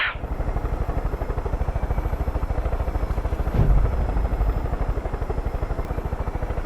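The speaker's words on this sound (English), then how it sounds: "Addie's got her chopper all fired up." A helicopter engine runs steadily in the Far Cry 5 video game, with fast, even rotor thumping throughout and a brief louder thud partway through.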